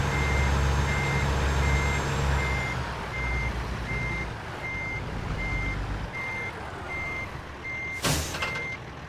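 A truck's reversing alarm beeps in a steady, evenly spaced series over a low diesel engine rumble while backing to hook up a trailer in American Truck Simulator, with a sharp hiss near the end.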